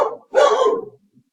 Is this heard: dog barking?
yes